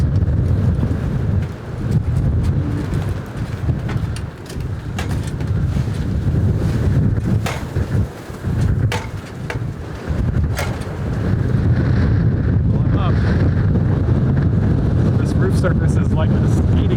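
Strong wind from an Arctic Alaska windstorm roars against the microphone in a deep, continuous rumble with gusty surges, loud and close throughout.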